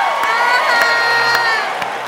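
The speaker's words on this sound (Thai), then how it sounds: "เชียร์ด้วยนะคะเข้ารอบแล้วนะ" Studio audience at The Voice Thailand cheering and whooping loudly, a dense steady roar of voices with high shouts, continuous for about two seconds.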